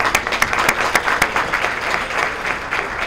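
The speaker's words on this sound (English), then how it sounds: "Let's have a round of applause for all of them." Dense, steady applause from an audience at a chamber of commerce annual meeting, honoring business development guests, with many hands clapping continuously at moderate loudness throughout.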